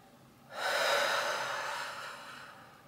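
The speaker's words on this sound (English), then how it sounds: "Breathing." One deep, close breath drawn in and slowly released during an EFT tapping session, clear and alone against quiet room tone.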